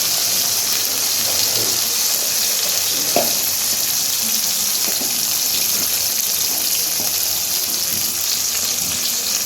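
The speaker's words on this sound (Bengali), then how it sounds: "তো টমেটোটা আমি বেশ কিছুক্ষণ ধরে একটু ভাজতে থাকবো।" Chopped tomato fries in a pan, a continuous even hiss and sizzle, close and steady, with a few faint soft clinks of stirring and no voices.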